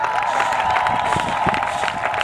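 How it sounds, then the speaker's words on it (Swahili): A crusade congregation claps in praise of the Lord Jesus, a dense crowd of many hands slapping at once with cheering and voices mixed in, steady and reverberant across the whole stretch. "pigia makofi Bwana Yesu ya sifa"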